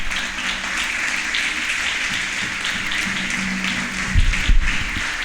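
Applause from a church congregation during a Spanish-language sermon, a moderate steady patter of clapping lasting several seconds with a couple of louder knocks near the end.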